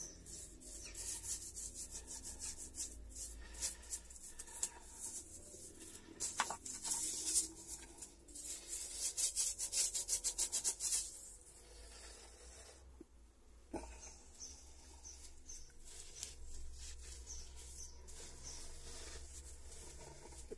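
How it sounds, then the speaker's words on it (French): A brush scrubs acid-softened limescale around the rim of a 40-year-old toilet bowl, giving a continuous close rasping and rubbing with uneven bursts of harder strokes and short pauses. "j'utilise un pinceau pour nettoyer le contour"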